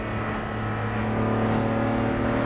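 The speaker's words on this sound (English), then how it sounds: "you probably want to hear that engine, because that fuel injected straight six is just core to the character of the 300 SL." A Mercedes-Benz 300 SL's fuel-injected straight-six engine runs with a steady, close, throaty hum that swells slightly in loudness, with no talk over it.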